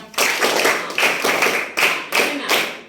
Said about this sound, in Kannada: ಒಂದು ಚಪ್ಪಾಳೆ ಕೊಡ್ಬೋದಾ?